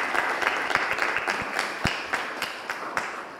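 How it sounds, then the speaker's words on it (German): Small audience at a mayoral election discussion event in Münster giving brief applause; scattered, moderately close hand claps in an uneven rhythm that taper off after a few seconds. "das ist schon mal einen kleinen Applaus wert"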